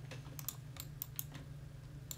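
Fast typing on a computer keyboard, rapid irregular key clicks close to the microphone over a low steady hum, with no voices.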